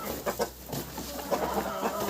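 Chickens in a backyard poultry yard cluck in short repeated bursts, close and moderately loud, several birds overlapping in an uneven rhythm.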